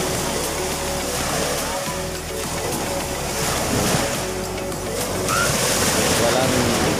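Sea waves wash onto a littered beach in Lumambayan, Oriental Mindoro, a continuous roar of surf with wind buffeting the microphone and a boat droning faintly in the distance.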